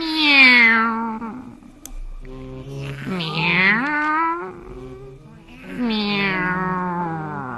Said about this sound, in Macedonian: Oh non! Le chat!